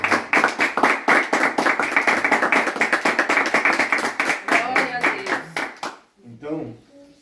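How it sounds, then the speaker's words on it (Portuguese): A congregation at a home church service in a favela claps hands in a fast, even rhythm, loud and close, with voices over it, before the clapping stops and a voice continues alone. "Bater palmas para Jesus."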